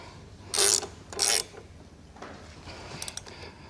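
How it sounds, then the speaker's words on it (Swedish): A wrench tightens the last nut onto a bolt during a moped assembly, two short bursts of metallic ratcheting close by, followed by a few faint clicks in a quiet room. "Och sen på med muttern allra sista på andra sidan så ska vi dra åt den lite."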